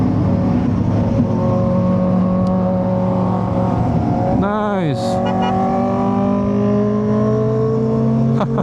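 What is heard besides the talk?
motorcycle engine revving past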